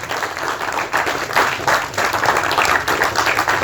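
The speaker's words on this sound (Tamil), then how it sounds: "நல்ல ஒரு கைத்தட்டல் கொடுக்கலாம் நம்மளுடைய டைரக்டருக்காக." Loud, steady applause from an audience at a Tamil film audio launch event, honouring the director with a shawl; dense clapping swells slightly in waves throughout.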